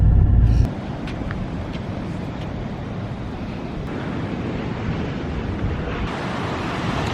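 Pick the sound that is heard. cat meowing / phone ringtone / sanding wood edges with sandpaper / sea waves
sea waves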